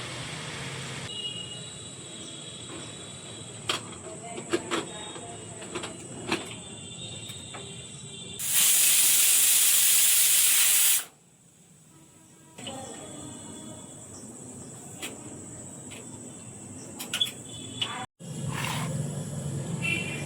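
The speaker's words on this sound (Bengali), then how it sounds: "মোমো করার জন্য এখানে আমি বাঁধাকপিটা প্রেসারে চাপিয়ে দিয়েছি সেদ্ধ হওয়ার জন্য।" A pressure cooker boiling cabbage for momo in a home kitchen lets out a loud, sharp steam hiss lasting a couple of seconds midway, set against a busy background of clatter and murmur.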